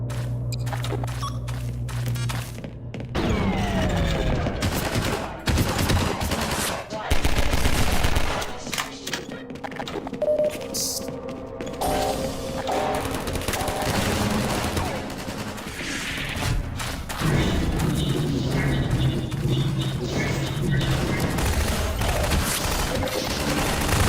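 Automated turrets fire in Half-Life 2, dense bursts of loud gunfire layered over game music and effects, sustained through most of the stretch with brief pauses and booms.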